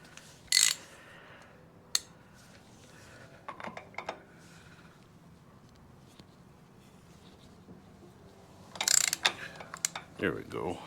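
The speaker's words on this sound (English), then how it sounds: "So, socket and a big ratchet." A socket on a big ratchet clicks while working on the clutch of a 1973 ATMX motorcycle, with sparse close metallic clicks and clanks amid quiet workshop handling noises.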